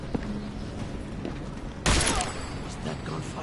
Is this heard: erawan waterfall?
no